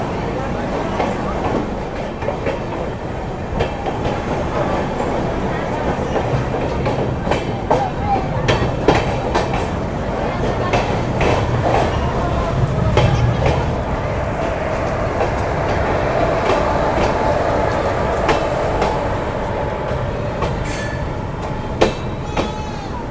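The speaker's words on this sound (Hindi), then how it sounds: "राजधानी एक्सप्रेस अपनी धीरे धीरे एक्सेलरेट करते हुए" Rajdhani Express pulling slowly away from Barharwa Junction, a steady rumbling roll with rhythmic clickety-clack of wheels on rail joints throughout, close and continuous, with faint voices in the background.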